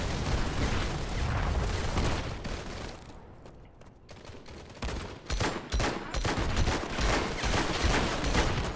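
Rapid gunfire bursts from hip-fired weapons in the PC shooter Modern Combat 5 during a 5v5 match, dense and loud throughout with a brief lull near the middle before the shots pick up again.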